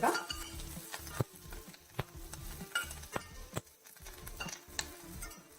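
Bitter gourd stir-fried in a pan over a lowered flame, a continuous sizzle broken by sharp clicks and scrapes of stirring at irregular intervals.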